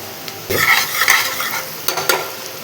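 Onion with turmeric and salt being stirred in a hot pan for Konkani-style mutton rassa, a few loud close scrapes and clatters of a spoon over a light sizzle, with no voices.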